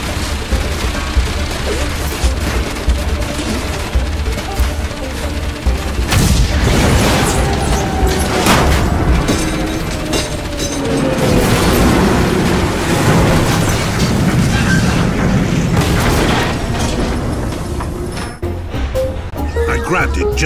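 A video game building blows apart in a long, heavy rumble of booming explosions and crashing debris that swells loud and stays dense for most of the stretch, with a voice talking over the chaos.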